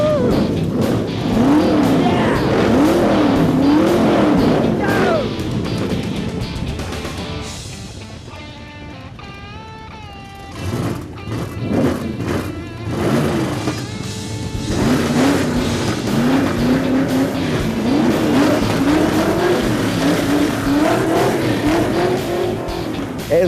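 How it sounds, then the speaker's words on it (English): Loud hot rod engines start, rumble and rev repeatedly, roaring up and down in pitch with a brief quieter lull in the middle before revving hard again. "start your engines!"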